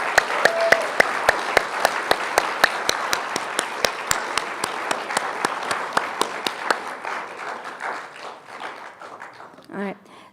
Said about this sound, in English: one last final applause for all of the students who have competed